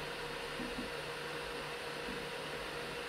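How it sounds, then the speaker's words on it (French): Cooling fans of an Anycubic Vyper 3D printer with quiet 2209 stepper drivers, a steady near whirring hiss holding level throughout with no talking. "on entend un petit peu les ventilateurs, les moteurs sont très silencieux"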